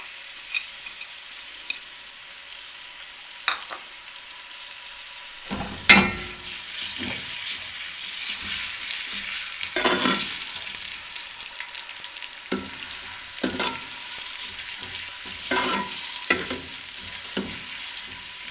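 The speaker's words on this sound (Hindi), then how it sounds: "अब इसमें हम प्याज डाल देंगे" Onions dropped into cooking oil in a pot on a stove, bursting into a loud sizzle after a few quiet seconds, then crackling steadily under repeated stirring scrapes and clanks, with no speech.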